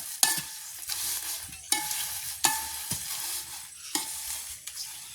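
Chillies fry in coconut oil in a pan as a spoon scrapes through them, giving about five sharp close scrapes over a low, steady sizzle, with nobody speaking.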